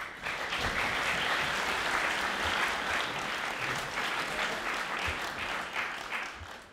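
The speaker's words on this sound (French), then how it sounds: "Sous vos applaudissements, s'il vous plaît" Sustained audience applause in a hall at a French debating competition, dense steady clapping from many hands that stays loud throughout with no voices over it.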